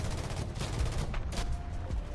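Strafing gunfire in a video game, a continuous rattle of rapid shots over a steady low rumble, fairly loud and unbroken throughout with no talk.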